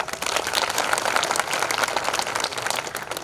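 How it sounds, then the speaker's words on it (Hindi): Audience applause at a kavi sammelan poetry recital at the Kishanpur mela, steady dense clapping from a crowd, sustained and fairly loud throughout. "ताली बजाओ।"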